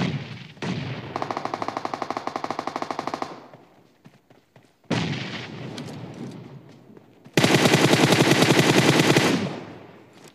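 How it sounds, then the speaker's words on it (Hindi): Automatic gunfire in the mobile battle royale game PUBG Mobile rattles in three long, loud bursts of rapid shots separated by short gaps with scattered single shots. "पर आगे से फायरिंग चल रहा है"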